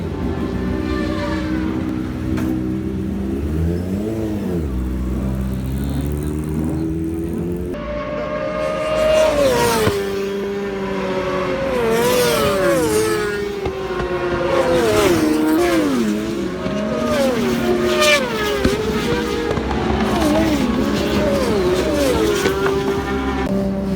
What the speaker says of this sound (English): Moments later, Jamie heads out for the first time on the Spirit SP2.